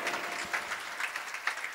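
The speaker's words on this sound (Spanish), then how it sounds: "fuerte el aplauso para ustedes." Brief burst of audience clapping, many hands patting together in a dense, steady patter.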